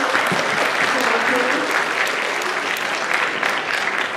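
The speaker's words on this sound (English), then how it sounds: "I would like to give a huge round of applause to Mrs. Follman" An audience at a high school gives sustained, loud applause for a Holocaust survivor speaker, dense and steady clapping from many hands throughout.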